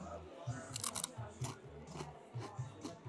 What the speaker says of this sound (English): Really like the crunch of that bread